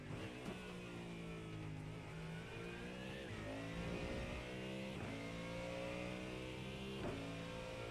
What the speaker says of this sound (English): Love the sound of that Mustang.